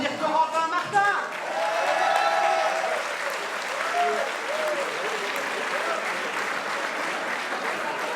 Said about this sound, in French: Merci d'applaudir Corentin Martin.